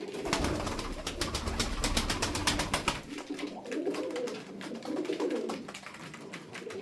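Bayram Şekeri pigeons, a male driving a female toward the nest, coo loudly and close in repeated throaty rolling calls, with a quick, busy patter of wing or foot noise in the first half and no voices.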